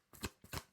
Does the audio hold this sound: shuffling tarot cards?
yes